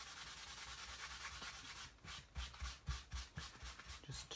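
Kitchen towel rubbed over an inked rubber stamp to lift surface ink, giving a soft dry scrubbing that turns into quick rhythmic strokes, close and faint.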